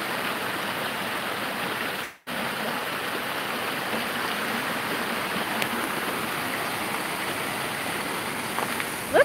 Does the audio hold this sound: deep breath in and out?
no